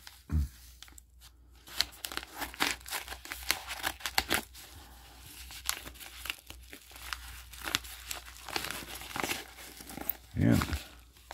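Coin mail packaging is opened layer by layer, with plastic and paper crinkling and tearing in irregular bursts close by, under a person talking throughout.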